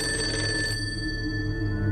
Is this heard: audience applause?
no